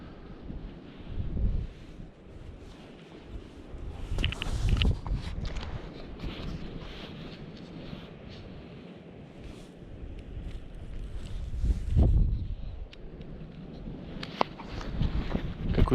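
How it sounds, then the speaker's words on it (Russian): Strong wind at a winter fishing spot in snow, gusts rumbling against the microphone and swelling and easing across the span, fairly faint overall with louder bursts near the start and middle. "Какой-то ветер раздувается."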